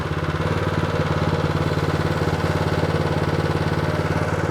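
A Toro dual-direction tiller's small engine idles steadily and evenly, a low rhythmic putter with a smooth, unchanging pulse close by.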